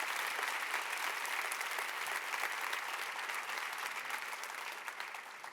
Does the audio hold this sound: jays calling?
no